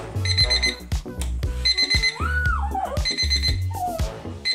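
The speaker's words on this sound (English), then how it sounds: "The Ruggie's the size of a bath mat with different alarms and volume levels." Ruggie, a bath-mat-sized rug with a built-in alarm clock, plays a loud, busy electronic alarm tune with repeating beeps, pulsing bass and sliding synth tones, close and continuous throughout.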